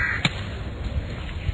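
A crow caws during a morning walk in New Delhi, one sharp call standing out over a murmur of distant outdoor background noise, with a couple of fainter thuds later.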